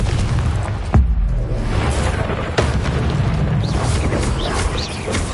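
A Confringo blast spell explodes in the video game Hogwarts Legacy, a loud booming burst followed by a second heavy impact, with rumbling combat noise and crackling debris continuing underneath.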